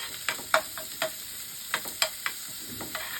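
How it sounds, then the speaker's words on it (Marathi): Small chopped onion fries in a pan for chicken samosa filling, with a soft steady sizzle broken by sharp, close spatula scrapes and taps every half second or so. "छोट्या आकाराचा आपण कांदा घ्यायचा आहे छान असा गोल्डन कलर येईपर्यंत आपल्याला तो परतून घ्यायचा आहे"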